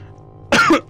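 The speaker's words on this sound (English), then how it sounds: "wait, I'm coughing" A single short cough up close, roughly a third of a second long, rising sharply out of a quiet background hum with no talking around it.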